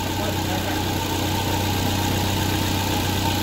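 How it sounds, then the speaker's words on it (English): A car engine idles and runs loud and close while the driver shifts into first gear, a steady droning rumble with constant vibration and no pauses, no voices. "this is the vibration or noise getting from the engine after starting the engine"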